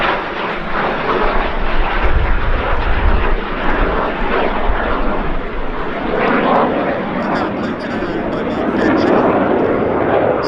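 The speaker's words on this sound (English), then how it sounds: "That's the second of the two aircraft you can see performing a barrel roll in front of us." Vintage aircraft performing a barrel roll at the Duxford summer air show, a loud continuous engine roar sustained throughout, with a commentator talking over it.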